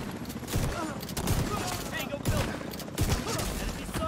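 Shotgun blasts in The Division 2 video game, several booming shots spaced a second or so apart over a busy firefight, with people talking underneath.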